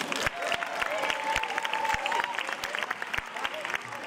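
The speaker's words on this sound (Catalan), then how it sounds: "I per això a tota la gent li demano un fort aplaudiment." Carnival crowd clapping outdoors, a dense, lively wash of hands with crisp individual claps popping out, some cheering mixed in, sustained at moderate loudness.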